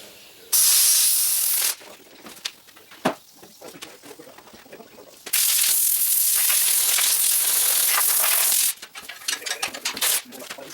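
Compressed air blasting through a tractor radiator in long loud hissing bursts, separated by quieter gaps of clanks and small mechanical knocks, close by.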